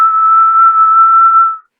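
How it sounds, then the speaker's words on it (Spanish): A single eerie whistle of El Silbón in a horror tale set on the plains, one loud, steady pure tone held for about a second and a half before stopping sharply, alone without any talk. "El Silbón giró la cabeza, silbó una última vez"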